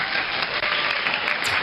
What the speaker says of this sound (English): I'm going to give you applause.